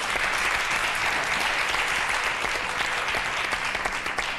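Dense, loud studio audience applause rises to a steady roar of clapping on a sports comedy TV show, filling the stretch without any speech.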